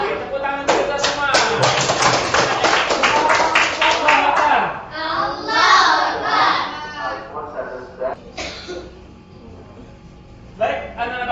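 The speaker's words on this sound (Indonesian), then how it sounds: "tepuk tangan untuk kita semua" Students in a classroom clap together in a dense burst of applause with some voices and cheers mixed in, fading into scattered claps and quieter room noise.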